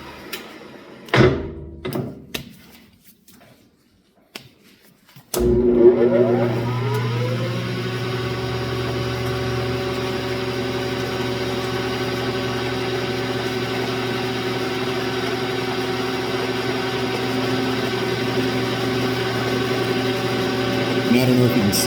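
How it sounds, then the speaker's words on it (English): Metal lathe set up for knurling hums steadily after switch-on, its motor whine holding constant and close, following a few clunks and handling noises. "And turn the lathe on."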